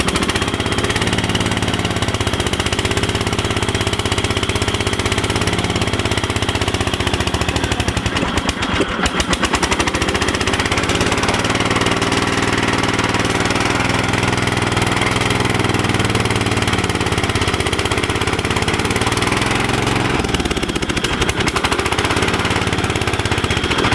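Dayton MTD 990 lawn tractor engine running steadily, a loud continuous close-up mechanical rattle and drone with a brief dip in the middle and a slight waver near the end.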